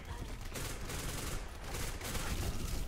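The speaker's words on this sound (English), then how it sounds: "Bullets all over the place." Continuous chaotic gunfire in the online shooter game Black Squad, dense overlapping shots and bursts filling the whole stretch with no clear pauses.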